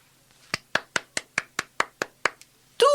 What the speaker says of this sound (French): Tous les chevaliers applaudirent à cette idée.